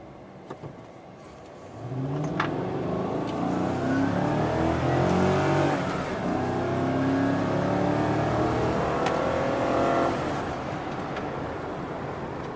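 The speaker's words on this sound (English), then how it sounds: "let's try and do like a from a dead stop, full throttle" A 2014-or-later Chevrolet Silverado pickup idles, then revs hard at full throttle from a standstill, climbing through a couple of gears with a deep, loud roar before easing off.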